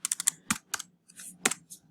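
Fingers type on a computer keyboard in a quick, close, uneven run of crisp keystrokes with brief pauses.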